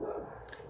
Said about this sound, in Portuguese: Esses cachorros hoje, né?